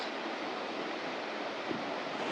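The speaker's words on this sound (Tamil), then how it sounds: "இதுதான் ஹேங்கிங் பிரிட்ஜுக்கு கீழே இருக்க வாட்டர் ஃபால்ஸ்" A waterfall beneath a hanging bridge in Kerala roars as a steady, dense wash of rushing water, loud and close, with no voices over it.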